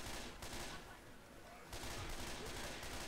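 Rapid, continuous gunfire from the video game Left 4 Dead 2 comes as dense, rattling bursts at a low level, briefly easing before surging again.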